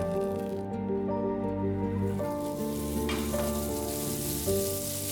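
Onions frying in a pan with ginger garlic paste for chicken dum biryani give a steady close sizzle, with stirring scrapes throughout and faint tonal background music underneath.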